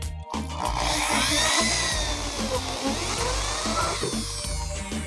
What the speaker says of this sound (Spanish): el tornillo entrando a la madera me encanta